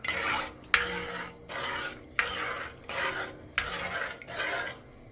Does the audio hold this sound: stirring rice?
yes